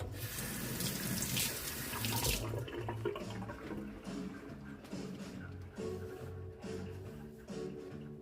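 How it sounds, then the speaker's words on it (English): Tap water runs steadily into a kitchen sink while prawns are rinsed for a spotted prawn curry, a close, continuous splashing rush with the flow changing briefly partway through. "give her a quick rinse"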